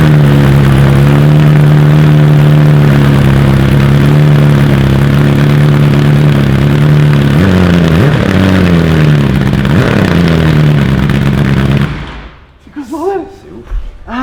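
Pink Rolls-Royce with catalytic converters removed and a new manifold and exhaust line, rumbling steadily and loudly at idle with a deep harmonic drone, wavering briefly mid-way, then cutting off near the end as faint voices remain.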